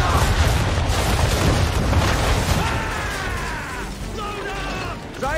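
A ship's cannon volley thunders in the video game Assassin's Creed III, loud overlapping booms up front giving way to rumbling echoes and creaking as the shots fade.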